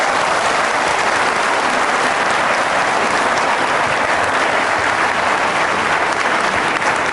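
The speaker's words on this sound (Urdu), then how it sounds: "تالیاں انہوں نے اس کے سوال پہ دیا" Studio audience applause at a televised Pakistani political interview, a dense, loud, continuous burst of clapping lasting several seconds with no voices heard over it.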